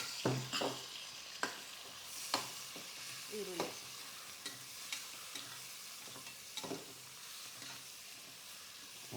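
Onion fries with salt and turmeric in a pan for chicken biryani, a soft continuous sizzle punctuated by irregular scraping strokes of a stirring spoon, fairly quiet and with no talking.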